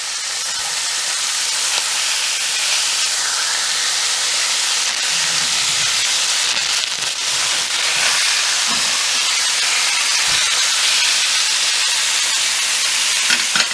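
Mahi mahi fillet sizzling in a hot pan, a steady loud hiss of frying oil that holds without a break, with faint clinks and stirring underneath.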